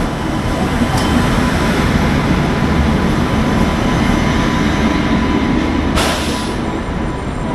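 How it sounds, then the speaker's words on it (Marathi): The Mumbai–Madgaon Konkan Kanya Express pulls in at a station platform with a steady, loud rumble that does not let up, and a short hiss or squeal is heard near the end. "मुंबई मडगाव कोकण कन्या एक्सप्रेस प्लॅटफॉर्म क्रमांक वर आलेली आहे"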